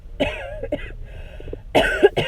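Several harsh coughs sound close by, a couple early and a heavier burst near the end, with throaty rasps between them.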